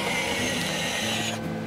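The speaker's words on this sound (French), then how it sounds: "on a le volant qui s'efface entièrement dans la planche de bord" Steering wheel of the Peugeot e-Legend concept car retracting into the dashboard, a steady mechanical whirring motor hum lasting over a second and a half, then easing off near the end.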